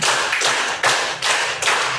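Students in a classroom chemistry lesson clap together on their teacher's command, producing several loud unison bursts of clapping in a rhythmic pattern, each lasting under a second.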